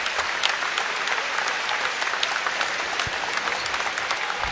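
A basketball crowd at North Carolina gives a sustained round of applause for injured player Marquise Bolden, a steady dense wash of clapping with no commentary over it.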